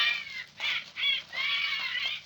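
A man whistles a bird-call imitation as a signal, giving a few shrill warbling notes in short bursts, faint and somewhat distant with no other sound.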